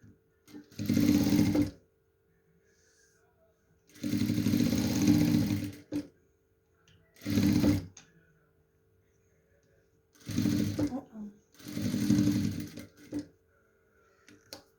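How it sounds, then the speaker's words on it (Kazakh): A sewing machine stitches a quilt in five distinct bursts of fast, rhythmic whirring, each lasting one to two seconds and separated by quiet pauses, heard close by and loud. "Енді қайтадан көк тігіп бастаймыз"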